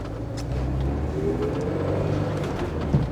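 A Porsche 924 on a test drive hums along at a steady cruise, its engine drone and road rumble close and even, with a small knock near the end.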